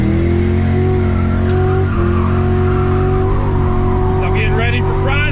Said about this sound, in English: Let me get one quick drift.